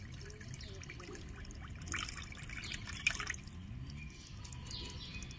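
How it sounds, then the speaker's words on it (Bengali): Water poured into a bowl of semolina to make batter, a soft steady trickle and drip running low and close throughout, with no talking. "সেই বাটির মাপ করেই কিন্তু আমি 1 বাটি জল দিয়ে দেব এখানে।"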